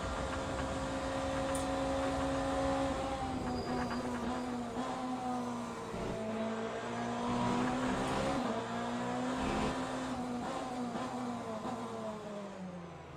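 Peugeot race cars in the Le Mans Ultimate racing game at Portimao Algarve give a steady, buzzing engine drone whose pitch rises and falls as they close in, continuous and fairly full.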